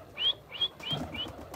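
Pigeons flap their wings in quick bursts as they enter a loft, about four short close flutters with faint chirps between them.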